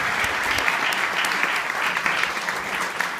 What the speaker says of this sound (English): give yourselves a round of applause for what you do every day